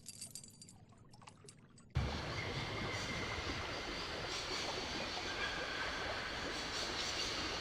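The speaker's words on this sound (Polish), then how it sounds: "Przyczep łańcuch do pociągu i barka ciągnie pociąg na łańcuchu." In the Syberia video game, a train hauled on a chain by a barge starts with a sudden loud onset of steady rumbling, clattering rail noise after a quieter stretch, continuing dense and unbroken to the end with no voices.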